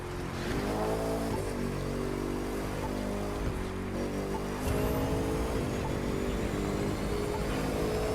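A racing car in The Crew 2 cruises along a high-speed road, its engine droning steadily and loudly with shifting harmonic pitch, rising slightly in intensity partway through and continuing without any talk.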